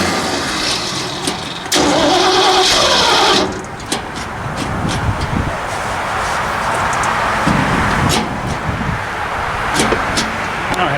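An AMC V8 engine powering a hot rod wood chipper runs loud and close with a rough, uneven roar, broken by sharp pops and a dense burst of backfiring near the start.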